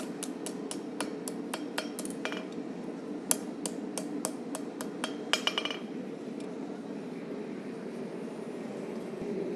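Railroad spike knife blade hammered over the horn of an anvil, a quick run of sharp ringing metallic strikes in an even rhythm that stops partway, leaving a steady background hum.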